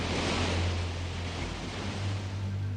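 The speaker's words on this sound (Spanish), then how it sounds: "el oleaje estaba particularmente revuelto." Rough, churning sea surging against a rocky stretch of coast known for strong currents, a steady, dense wash of surf that roars continuously without pause, with a low rumble underneath.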